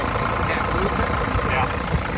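A Mercedes Sprinter van engine idles right after a cold start, a steady, close, continuous rumble with no pauses.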